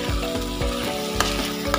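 Minced mutton keema sizzles steadily in hot oil as it is sautéed, with a bright, continuous crackle and rhythmic scraping strokes of a spatula against the pan, close and fairly quiet, no voices.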